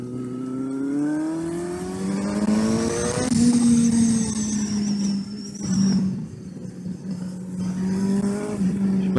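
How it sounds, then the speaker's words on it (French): A Suzuki GSR 750 motorcycle engine revs up and settles back to idle, with a rising whine and rough, steady engine tone heard up close and loud throughout. "il y a des petites pétarades au niveau de l'échappement, enfin du mien"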